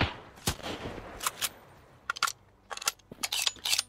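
Scattered bursts of machine gun fire in the survival video game Sunkenland, sharp cracks coming in short clusters at moderate distance with quiet gaps between them.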